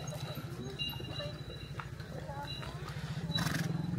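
A rented horse walks around a housing complex, its hooves giving a steady close clopping rhythm under the low rumble of a moving vehicle, with a brief louder burst near the end.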